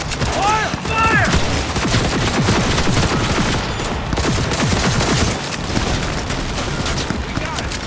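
Heavy sustained gunfire from a firefight in the video game Cyberpunk 2077, a dense fusillade of shots and booms running continuously throughout, loud and close, with shouted voices over it.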